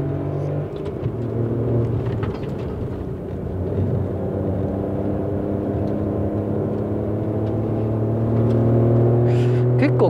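A Spoon-tuned Honda N-ONE brakes on a mountain road, engine droning and tyres rumbling with a low steady hum that swells toward the end, heard from inside the car.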